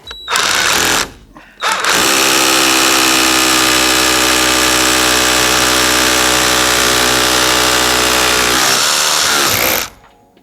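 A Vitals Master ARa 1618-2P cordless rotary hammer bores with an MX4 bit tipped with four carbide inserts: a brief first burst and short pause, then a loud, steady, close-up hammering drone for about eight seconds before it stops.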